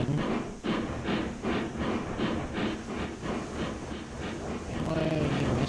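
A log train running in Railroads Online, a steady rhythmic chuff and rumble of a steam locomotive pulling along the track with hissing steam, loud and continuous.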